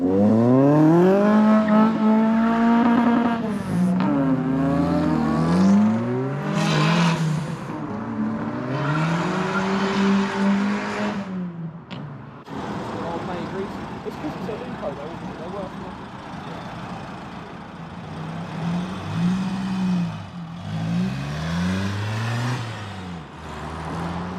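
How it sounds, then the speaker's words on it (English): A Cosworth-powered Mark II Ford Fiesta leaving a Fiesta car meet at a diner revs hard, its engine note climbing and falling in loud repeated sweeps. The car pulls away, then more engine revving follows. Voices are heard around it. "Off goes the monster Cosy powered Mark II Fiesta."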